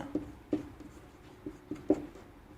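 Pen tapping and scratching on paper while working a polynomial long division in a Class 10 maths lesson, a few short soft clicks spaced irregularly, close and quiet.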